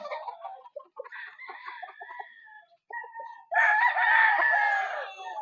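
A rooster clucks and calls in short, broken bursts, then lets out one long, loud crow near the end, close by with no talk.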